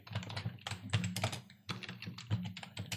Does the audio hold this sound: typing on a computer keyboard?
yes